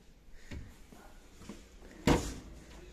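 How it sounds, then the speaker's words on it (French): Kitchen cutlery drawers in a fitted display kitchen at a Brico Dépôt store slide open or shut: a few soft thuds, then one sharper, louder knock near the end, with quiet room noise between. "Ça, c'est des tiroirs pour le couvert."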